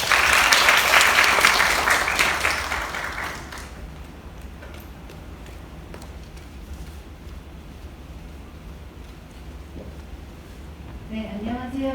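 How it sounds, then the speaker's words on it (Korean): Audience applause at a climate change seminar at a university, loud clapping that fades out over the first few seconds. Quieter room tone follows, and a voice begins speaking near the end. "모두 박수 부탁드립니다"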